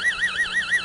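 An amplified theta-band brainwave signal played as sound. A clear electronic tone warbles quickly up and down in pitch, several swoops within under a second, with a thin siren-like quality and nothing else audible.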